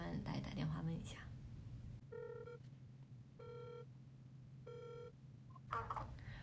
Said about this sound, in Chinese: 我们来打电话问一下。